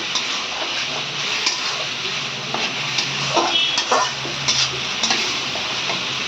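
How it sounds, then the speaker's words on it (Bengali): Spice paste for a pangas fish curry being stirred and fried in a pan, a steady sizzle throughout with scraping strokes of the spoon rising every second or so, close and fairly loud, with no talking. "এবার আবার ভালো করে নেড়ে নিচ্ছি ভালো করে মশলাটা কষিয়ে নেওয়ার পরে"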